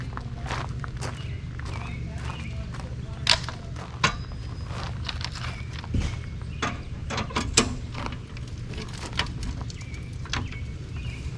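A travel trailer's stabilizing jacks are cranked down by hand with a series of close ratcheting clicks and metallic clanks. Soft footsteps and low background rumble run throughout.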